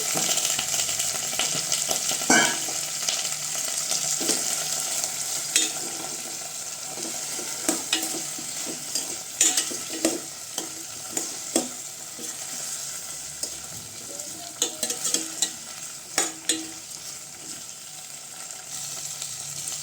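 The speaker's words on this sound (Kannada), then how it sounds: "ಎಣ್ಣೆಲಿ ಫ್ರೈ ಮಾಡ್ತಾ ಇರುವಾಗ ಎಷ್ಟು ಚೆನ್ನಾಗಿ ಕಾಣಿಸುತ್ತೆ ನೋಡಿ ಬದನೆಕಾಯಿ" Eggplant pieces fry in hot oil with a continuous soft sizzle, broken by irregular clinks and scrapes of a spoon stirring the pan close by, with no talking.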